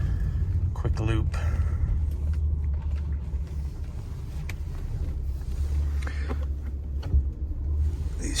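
Steady low engine and road rumble from a Mercedes W124 E420 driving on the road with a hesitating transmission and worn shifter bushings, heard from inside the car throughout while someone talks.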